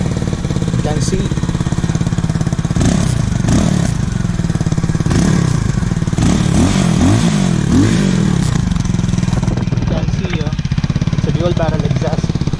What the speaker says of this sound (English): So we'll be looking out the exhaust note of this bike first